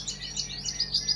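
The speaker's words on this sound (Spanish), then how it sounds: "Luego dicen que los London no cantan fuerte" A London canary in an aviary sings a quick run of high, bright chirps and trills, fairly soft and steady, with no talking.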